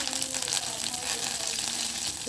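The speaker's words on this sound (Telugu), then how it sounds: "కమ్మటి వాసన కోసం వెల్లుల్లి పోపును కలిగిద్దాం" Garlic tempering sizzles steadily in hot oil, a close, continuous crackling fry with faint stirring, no voices.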